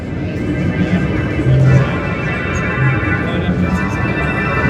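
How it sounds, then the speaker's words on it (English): A dense, hazy Sequential Prophet X synthesizer pad with a faint fluttering flute-like shimmer trilling a major second in the background, steady and continuous. "there's actually a fluttering, major second trilling flutes in the background"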